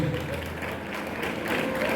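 A church congregation claps for Jesus during a sermon, continuous dense applause mixed with crowd murmur and voices throughout the short stretch.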